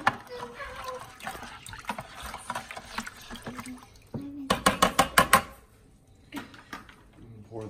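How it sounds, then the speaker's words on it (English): Broth for a turkey brine splashes and trickles into a pot alongside clinking cookware, with a muffled voice murmuring in the background. "Pour the second half of the broth."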